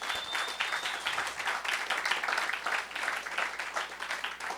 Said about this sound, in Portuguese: pudéssemos bater uma salva de palmas para toda mulher que empreende nesse país